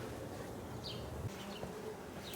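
Bees buzz faintly at a beehive during an inspection, a low, continuous drone with a few brief higher whines from insects passing close.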